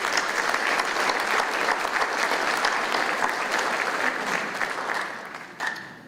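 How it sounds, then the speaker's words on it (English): A sports banquet audience gives Coach Rick a round of applause, sustained loud clapping from a crowd that tapers off toward the end, with a brief sharper sound near the close. "let's give Coach Rick a nice hot round of applause"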